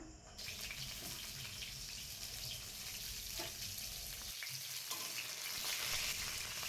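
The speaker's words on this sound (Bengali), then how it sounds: "তেল গরম হয়ে গেছে একে একে পটলগুলো তেলে ছেড়ে দিলাম" Continuous hissing sizzle of pointed gourd frying in white oil, close and fairly loud, steady throughout with a brief dip midway.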